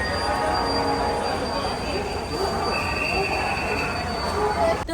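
Busy platform at Howrah railway station with a train alongside: a continuous rumbling din, squealing wheels, and a crowd of people talking throughout.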